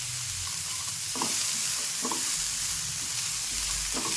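Vegetables with butter peas frying in a pan, a steady sizzle underneath, with spoon scrapes and stirs landing roughly once a second.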